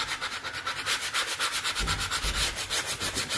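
Sandpaper rubbing back and forth on a wooden mini racing boat, a steady run of close, loud scraping strokes in a quick, even rhythm.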